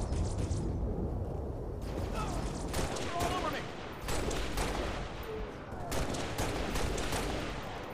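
Rapid gunfire from a sniper rifle and other weapons in the video game Halo Reach, with repeated sharp shots and bursts at steady loudness throughout.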